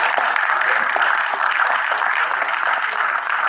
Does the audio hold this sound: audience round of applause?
yes